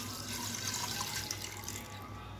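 Water streams steadily into a pressure cooker holding beef for biryani, a soft, even, continuous pour, fairly quiet, with no voices.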